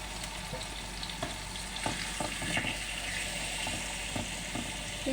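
Salmon frying in hot cooking oil, a steady close sizzle with scattered crackles and pops running throughout, no voices.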